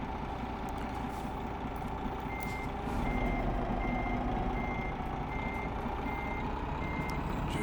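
A DAF XD truck in Euro Truck Simulator 2 backs up with a regular, evenly spaced reversing beep repeating over a steady engine rumble that grows slightly louder midway.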